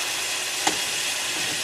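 Yellow perch deep frying in hot oil give a steady, fairly loud sizzle and crackle that fills the whole moment, with one small sharp pop partway through and no voices.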